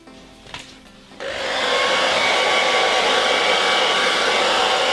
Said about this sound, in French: je voulais sécher tout ça au sèche-cheveux